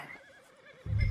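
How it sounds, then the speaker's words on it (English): A horse in the Red Dead Redemption 2 video game gives a short, loud snort or whinny near the end, after a quiet stretch of low in-game ambience. "I do kind of like this horse."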